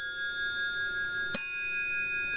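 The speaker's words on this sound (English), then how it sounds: "Each bell makes a different sound when you tap it with a mallet." Brass bells tapped with a wooden mallet with a brass tip, a clear ringing bell tone with sustained overtones, then a second sharp strike midway that rings out and decays, alone without speech.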